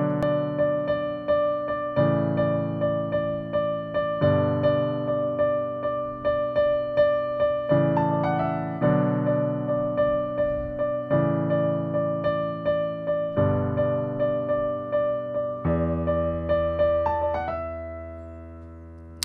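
Solo piano plays the intro of a song: steady chord changes about every two seconds under a repeating high note, clear and close, ending on a ringing fade with no voices.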